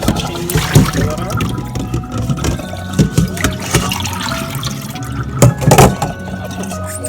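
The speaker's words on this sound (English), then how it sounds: "So I'm going to just change the water." Rinse water being poured out and changed while soaking salted codfish, heard as uneven splashing and gushing bursts with clanks, close and fairly loud.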